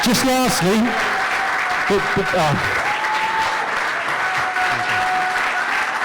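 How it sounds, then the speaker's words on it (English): A church congregation gives a big round of applause to a senior pastor, a dense, steady wash of clapping that continues throughout while voices speak and call out over it near the start. "big round of applause"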